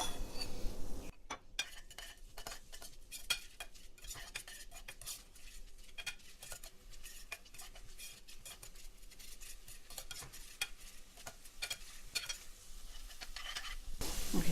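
Garlic, cloves and spring onions stir-frying in a pot while cooking rice with salt meat and pigeon peas: a steady sizzle under repeated scraping and clinking of a utensil against the pot, close and continuous.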